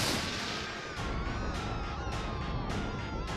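Repeated gunshots fire in Silent Hill, a steady series of sharp bursts about every half second over a dense, loud game soundtrack.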